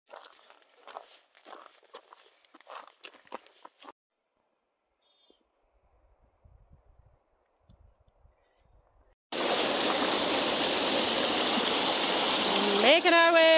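A river crossing on a mountain trail in the Wind River Range: soft footsteps and faint whispers give way to a loud, continuous rush of flowing stream water close by for the last few seconds.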